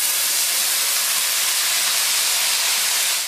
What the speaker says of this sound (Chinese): 下锅后，先爆炒至微微起窍，再加入各种调料